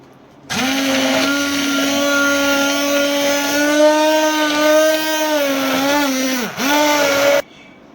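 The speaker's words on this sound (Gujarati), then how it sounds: "હવે આપણે એને બ્લેન્ડરથી ક્રશ કરી દઈશું।" Hand blender crushing boiled dal in a kitchen, a loud steady motor whine starting abruptly, holding for several seconds with one brief dip in pitch, then cutting off cleanly.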